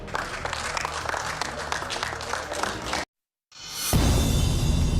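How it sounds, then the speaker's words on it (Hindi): Hospital medical staff clap as recovered patients leave for home, dense steady applause that cuts out abruptly partway through and returns afterwards. "अस्पताल से जाते समय इन्हें मेडिकल स्टाफ ने ताली बजाकर घर भेजा।"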